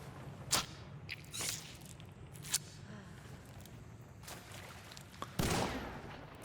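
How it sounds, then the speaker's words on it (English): Sharp shotgun blasts in the first-person shooter Hunt: Showdown, a handful of sudden cracks spaced a second or more apart over a quiet, hissing game background, the last one heavier and followed by a burst of noise. "Shooting the red baron will make him move"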